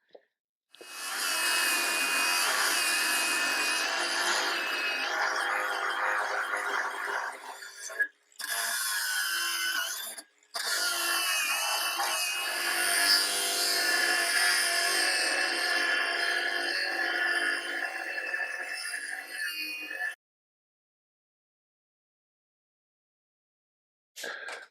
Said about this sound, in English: I guess I'm going to do it the hard way and grind off all these rivet heads